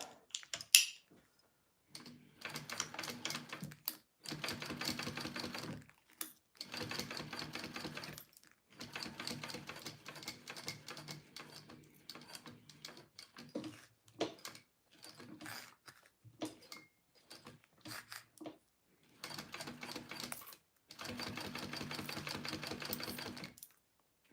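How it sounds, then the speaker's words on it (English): Bursts of sewing machine top stitching along a bag flap, a series of separate runs of rapid mechanical stitching with short pauses between them, close and fairly quiet, with no talking. "Okay, so I'm going to top stitch this flap."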